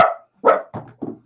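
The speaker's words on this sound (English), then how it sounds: "My dog is going nuts." A dog barks three or four times in quick succession, loud and close, with short gaps between the barks and no talking over them.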